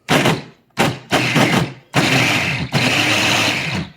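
A kitchen blender whirs loudly, mixing a creamy slaw dressing, in several bursts: short pulses stop and start over the first two seconds, then a longer steady run follows with one brief break.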